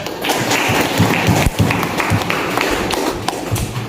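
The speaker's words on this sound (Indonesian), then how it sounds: "Coba beri tepuk tangan dulu." Students applaud in a classroom during a biology lesson, a dense, steady patter of many hands lasting the whole stretch, with a few heavier thumps and taps mixed in.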